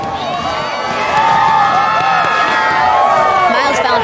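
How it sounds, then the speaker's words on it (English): A large crowd at a ski and snowboard streetstyle finals cheers and whoops steadily, loud and close, with a commentator talking over the sustained roar. "We got such an epic crowd right now."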